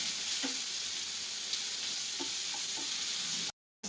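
Onions frying in a pan for a bean palya, a dense steady sizzle at close range with a few faint clicks of stirring, cutting off abruptly just before the end.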